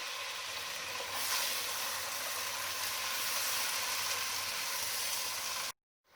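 Masala fries with yogurt, garlic, ginger, salt, chili and turmeric, giving a soft, even hiss-like sizzle that swells slightly and holds steady before stopping abruptly.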